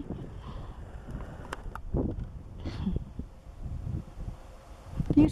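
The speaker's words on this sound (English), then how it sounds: "Very windy and fairly cold." Strong winter wind on a Cornwall cliff walk gusts and buffets the microphone in uneven, rumbling bursts, with rustling and brief knocks in between and a louder surge near the end.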